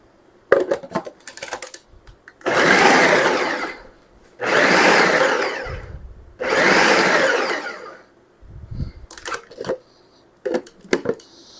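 A blender chops onions for canned salsa in three loud pulses of a few seconds each, its whirring motor close by, with clinks and knocks of the jar and lid between the runs.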